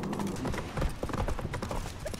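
Horse hooves in The Witcher 3 video game thud in a rapid galloping clip-clop, close and steady throughout, with no talk over them.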